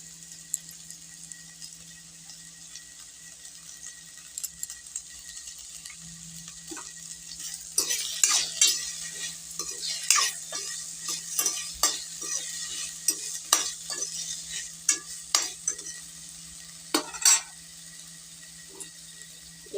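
Potatoes and tomato frying in oil for til posto, with steady sizzle under repeated sharp scrapes and clinks of a spoon stirring the pan, the stirring growing busier partway through; no one talks.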